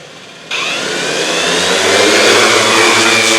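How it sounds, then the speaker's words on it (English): An Align M480 model aircraft's electric motor spins up under throttle, a loud steady whine starting abruptly and rising in pitch and intensity, with no talking. "I give it a little bit of throttle. You can hear the motor spun up."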